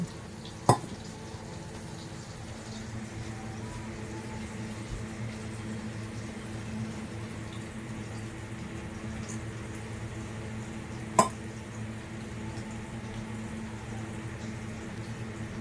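Besan being stirred and dry-roasted in a pan, a quiet, steady scraping hiss that runs throughout, broken by two sharp clicks of the spoon against the pan.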